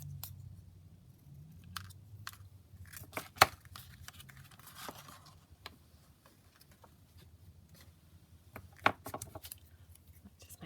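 Scissors snip paper pieces for a junk journal, sounding as scattered sharp clicks and crisp cuts with soft rustling and crinkling between them, close and fairly quiet, with no talking.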